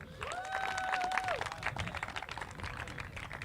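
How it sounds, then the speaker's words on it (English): Outdoor crowd applauding local organizers at a European stand-up paddle technical race final, steady scattered clapping throughout with a whistle-like tone near the start. "a big round of applause, please, for our local organizers, Waters."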